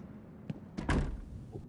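A door being shut in a SWAT tactical video game: a short click, then a brief sliding thud as it closes, followed by a quiet tap, fairly close with no speech.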